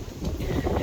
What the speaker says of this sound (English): it's very windy, it's very stormy at the moment